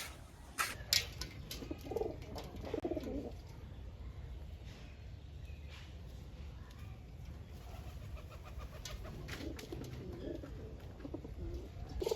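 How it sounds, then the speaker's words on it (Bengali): Released pigeons cooing outdoors on a morning, soft low repeated coos scattered through a steady murmur of background noise, with occasional faint flutters and no talking. "তো এই অবস্থা আর কি আমার কবুতর।"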